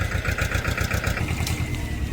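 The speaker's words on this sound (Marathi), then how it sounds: "आणि हे बघा ट्रॅक्टर इथं जागेची साफसफाई चालू झाली." A tractor engine clears ground at a campsite, chugging with a steady, rhythmic mid-low pulse at fairly close range, and no one speaks over it.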